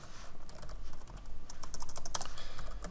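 Rapid, uneven typing on a computer keyboard during a programming session, with close clicking keystrokes in bursts and brief pauses, and no talking.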